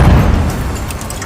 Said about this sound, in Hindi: उसने जैसे ही रॉकेट दागा, जबरदस्त धमाका हुआ